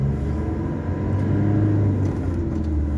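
A car driving along steadily, its engine and road rumble forming a continuous low drone throughout, loud and close as if heard from inside the cabin.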